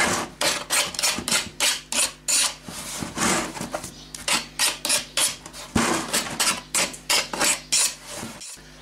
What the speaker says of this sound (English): Going to trim up the edges here, get the, the burrs off.